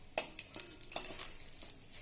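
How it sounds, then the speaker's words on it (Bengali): Pieces of eggless vegetarian omelette frying in a pan, a quiet steady sizzle broken by soft scraping stirs, with no voices. "এরকম করে সবকটা ভেজে নেব।"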